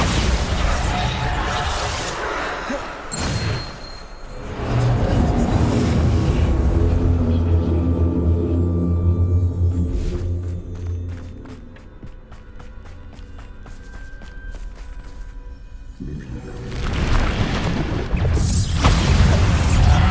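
Bombarda explosion spells in the Hogwarts Legacy video game go off as heavy booming blasts, loud near the start and again near the end, with a rumbling crackle in between.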